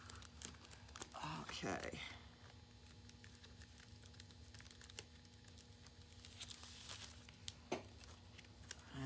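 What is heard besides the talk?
rubbing and peeling vinyl letters on transfer tape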